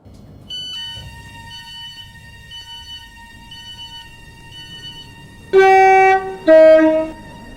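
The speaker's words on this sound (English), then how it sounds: "The train now approaching platform 9 terminates here." A train arriving at a platform in a Stepford Connect rail game, with a steady low rumble and faint tonal whine, then two loud horn blasts near the end.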